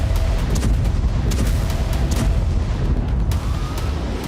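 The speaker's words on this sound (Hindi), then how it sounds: "इजरायल सीरिया और लेबनान से लगी सीमा पर बमबारी कर रहा है" Israeli bombardment along the border with Syria and Lebanon, a loud continuous rumble of distant blasts and heavy booms, dense low-frequency roar with repeated impacts throughout, no voices.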